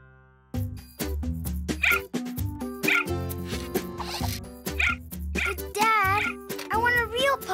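A cartoon puppy in an animated children's show yips and barks in short bursts, with music and animated voices talking over it throughout.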